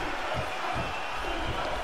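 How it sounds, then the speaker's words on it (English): A wrestling arena crowd roars in a continuous, dense wash of cheering at a match between two women, sustained and fairly loud through the short moment. "These fans cheering on both women, giving them both the respect they deserve"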